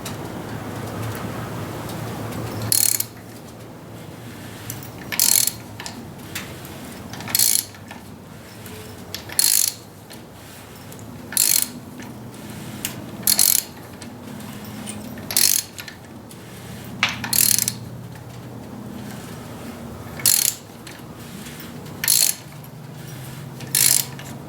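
Rebuilt BMW E46 engine turned over by hand with a ratchet, each pull giving a sharp clicking burst at regular intervals of about two seconds, over a steady low mechanical churn of the rotating engine.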